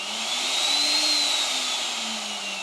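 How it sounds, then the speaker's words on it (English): A Trend T8 router motor runs steadily at full speed, a loud, continuous high-pitched whine with a slight rise and fall in pitch and no talking. "if I turn on the power, the machine will start."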